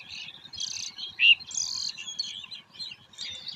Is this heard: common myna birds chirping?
yes